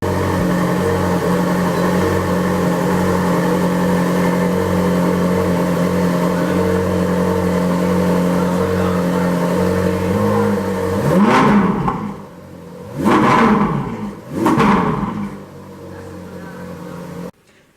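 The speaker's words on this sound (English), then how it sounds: "Let's listen to the engine as well while we're at it." A Ferrari 458 Spider's engine idles with a steady, loud drone up close, then blips through three sharp revs near the end before settling back down.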